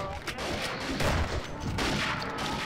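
Dense, continuous bursts of gunfire in the zombie shooter game Zombie Master, loud overlapping shots filling the short stretch with no pause.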